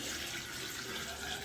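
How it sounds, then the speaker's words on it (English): Water streams continuously into a jar with apples for homemade apple cider vinegar, a steady close rushing splash with no break over a brief moment. "first I'm going to pour in my water"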